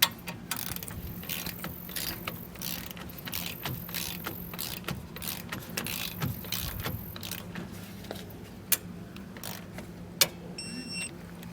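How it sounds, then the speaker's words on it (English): 3/4 inch socket wrench tightening the bolts of a Demco Dominator tow bar on a 2021 Newmar New Aire motorhome, quick ratcheting clicks and metallic clanks up close, with a couple of sharper knocks near the end. "we can go back and tighten these down. We're going to use a 3/4 inch socket to do so"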